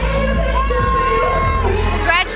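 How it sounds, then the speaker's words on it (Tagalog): Crowd at a Lipa, Batangas local government event cheers and shrieks loudly as actress Jasmine Curtis Smith appears, a dense roar of excited voices with high-pitched screams rising above it. "Hiyawan ang lumabas ang bida sa serye na si Jasmine Curtis Smith."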